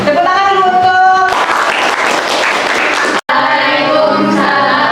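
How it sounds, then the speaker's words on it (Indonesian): Classroom applause from students during a project-based learning session on novel texts, a dense broadband clapping wash with a tonal instrument-like hum at the start and a brief dropout near the end. "Tepuk tangan dulu untuk"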